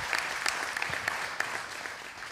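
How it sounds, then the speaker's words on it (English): Church congregation gives a round of applause, a moderate, steady patter of many hands with a few sharper individual claps standing out, lasting a couple of seconds. "Just give a round of applause to our online viewers."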